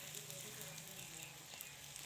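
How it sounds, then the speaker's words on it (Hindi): An egg fries in a pan with a steady, soft sizzle and faint crackle throughout, fairly quiet and uninterrupted. "अब जब तक ये अंडा फ्राई हो रहा है"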